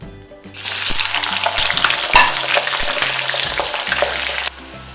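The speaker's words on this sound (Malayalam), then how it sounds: "ഇനിയിപ്പം നമുക്ക് നന്നായിട്ട് ഫ്രൈ ചെയ്തെടുക്കാം." Potato French fries deep-frying in hot oil in a pan, a loud dense sizzle that starts suddenly as they drop in and continues steadily before cutting back.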